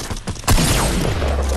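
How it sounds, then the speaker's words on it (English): Grappling hooks fire in a video game: a few soft mechanical thumps, then a sudden loud burst that rolls into a sustained, noisy roar of gunfire-like blasts and rumble. "Shooting grappling hooks."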